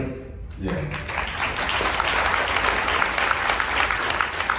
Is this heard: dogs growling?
no